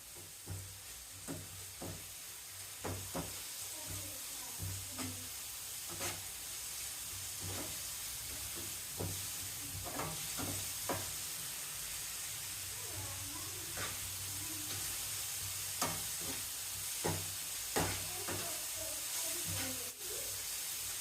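Cabbage manchurian frying with ginger garlic paste, a quiet continuous sizzle and hiss broken by repeated soft taps and stirs, with a person speaking throughout.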